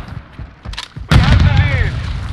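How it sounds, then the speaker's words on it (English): A grenade explosion in Call of Duty MWII bursts loud and close about a second in, a broad booming blast that rumbles on with gunfire-like crackle, after faint game sounds and talk. "Grenade out!"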